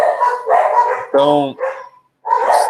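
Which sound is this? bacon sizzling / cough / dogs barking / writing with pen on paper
dogs barking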